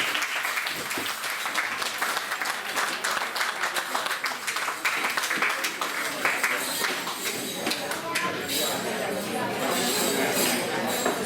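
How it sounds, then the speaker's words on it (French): An audience at an intercultural festival held at a château applauds loudly and continuously, a dense crackling roar of many hands that lasts throughout, with voices faintly mixed in. "je vous demande d'applaudir très très fort"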